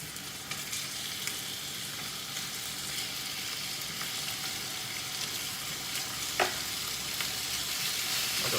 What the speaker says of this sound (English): now we're gonna brown off the meat before we put it into the slow cooker.